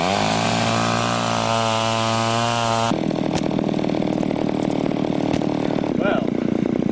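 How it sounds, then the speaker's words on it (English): A chainsaw roars in a yard, first revving in a steady high whine, then bogging into a rougher, louder snarl as it cuts, continuous and close. "notice I'm staying out of the plane of the chainsaw"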